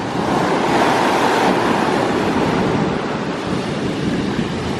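Stormy sea waves break and surge continuously close by, a loud, steady roar of churning surf with wind buffeting the microphone.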